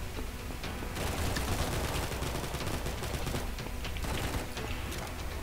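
Gunfire from a weapon in the video game Combat Master, dense rapid bursts of shots that run continuously and loud for several seconds.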